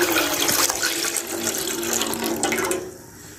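Milk poured from a glass into a pan while making shahi tukray, a continuous close splashing stream of liquid that tapers off near the end.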